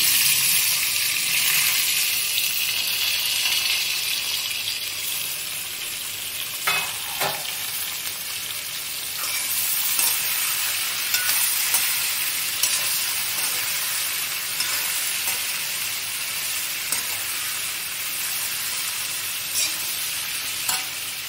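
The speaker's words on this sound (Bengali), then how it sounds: "এগুলো আমি একসাথে ভেজে নিচ্ছি" A pan of mixed vegetables for sukto fries together in a constant bright sizzle, with occasional scraping stirs and clinks rising above the steady hiss.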